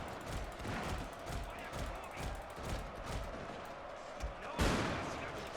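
Rapid, overlapping gunfire from a Shogun 2 Total War battle crackles steadily throughout as a dense wash of shots, with a sharper, louder volley bursting near the end; faint game voices sit underneath.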